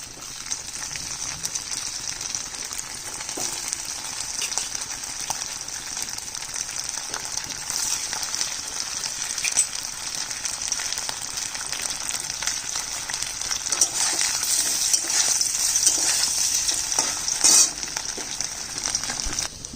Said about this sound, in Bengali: তেল গরম হয়ে গেছে, পনিরটা ভেজে নিচ্ছি।